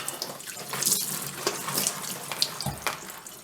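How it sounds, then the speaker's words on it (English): Running water from a kitchen tap as raw spareribs are rinsed under it, a steady splashing hiss with uneven spatters, close and moderately loud, with no one speaking. "I like to kind of rinse them a little bit here."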